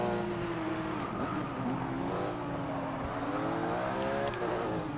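A race car engine in Forza 6 during a GT endurance race drones steadily as it accelerates, its whining harmonics rising and shifting through the gears. The sound is continuous and close, with no talk.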